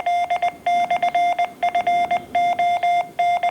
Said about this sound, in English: The CW coming across here is programmed into the C code.